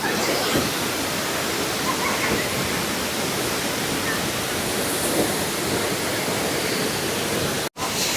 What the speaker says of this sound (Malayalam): വെള്ളച്ചാട്ടം എങ്ങനെയുണ്ട്